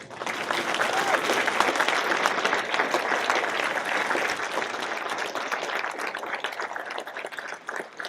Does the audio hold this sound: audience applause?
yes